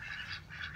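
Pet ducks at a small backyard pond giving a short run of nasal quacking calls, faint and somewhat distant, with no talking.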